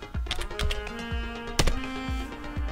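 Someone types on a computer keyboard, a close series of crisp key clicks in an uneven rhythm, with one sharper louder strike partway through, alone without talk.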